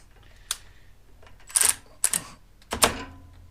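A Snap-on ratchet wrench torquing a bolt toward 55 foot-pounds gives four sharp, separate clicks and snaps, irregularly spaced and close up, with a faint background hum between them.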